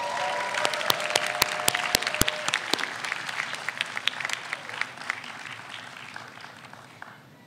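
An audience at a business school graduate diploma ceremony applauds faculty, a sustained wash of clapping with a few sharp claps standing out early, then gradually thinning.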